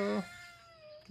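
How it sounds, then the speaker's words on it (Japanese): A cat gives one short, loud meow, followed by a faint trailing whine; close and brief. "にゃんこ。"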